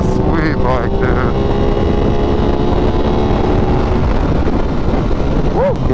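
An Aprilia RS660 sport motorcycle rides at highway speed, with a steady loud roar of engine and wind buffeting throughout, and a rider's brief whoops rising over it.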